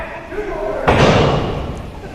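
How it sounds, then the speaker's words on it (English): Professional wrestling match: a wrestler's head slammed onto the ring canvas, one heavy thud with a broad crash over crowd noise and a commentator talking. "Melissa just slamming Lufisto's head down the canvas"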